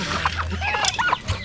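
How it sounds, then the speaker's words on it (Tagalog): Turkeys on a Philippine farm call with quick clucks and gobble-like chirps, several birds close by and overlapping in a short busy burst. "ang dami na tayong pabo dito"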